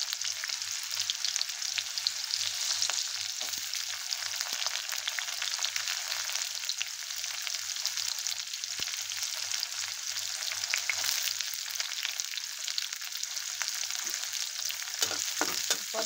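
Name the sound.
onion frying in a pan for kaju curry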